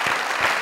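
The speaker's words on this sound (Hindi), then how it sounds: "मैं एज ए राइटर आपके लिए ताली बजाऊंगा" A studio audience at a comedy talk show applauds an actor, a brief burst of brisk, close clapping with no voices over it.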